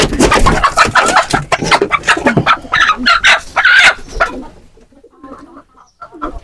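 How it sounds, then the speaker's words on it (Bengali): A chicken that has wandered into a pigeon house clucks and squawks loudly at close range in a rapid run of calls, then falls to fainter scattered bird sounds. "হঠাৎ করে অবশ্য মুরগি ঢুকে গেল কবুতরে"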